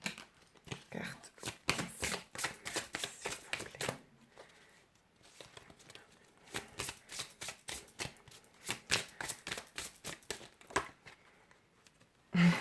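Tarot cards shuffled by hand in bursts of rapid riffling and flicking, with brief pauses between, close up and moderately quiet, no talking.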